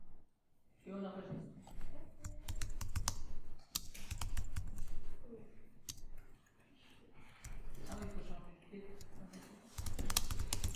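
Typing on a computer keyboard while working in Illustrator, with irregular bursts of crisp, close key clicks alternating with brief pauses, accompanied by a faint background voice.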